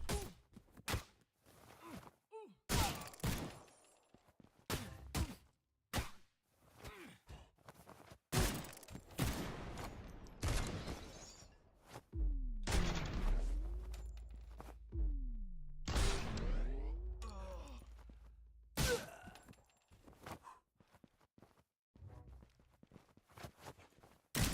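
Gunfire from an in-development fan game comes as rapid, spammed shots: sharp cracks fired in quick clusters, with swishing whooshes and thumps between the bursts. No one talks over the loud, close shooting.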